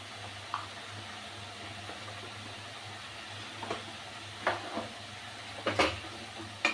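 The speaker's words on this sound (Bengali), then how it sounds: "এবার নাড়বো, নুন দিয়ে হলুদ দিয়ে ভালো করে শাকটাকে মেশাবো।" Bottle gourd leaves stirred with salt and turmeric in a pan, producing a quiet steady sizzle with occasional scraping and clinking spatula strokes that grow more frequent toward the end, close by without talk.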